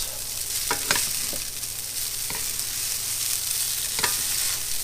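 Day-old cooked rice stir-frying in three tablespoons of hot oil, a steady close sizzle broken by a few sharp scrapes and taps of the stirring utensil.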